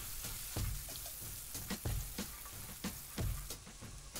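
Chopped coriander and dried red chillies fry in a hot pan for mustard tamarind rice, giving a steady close sizzle with irregular crackling pops throughout, and no voices.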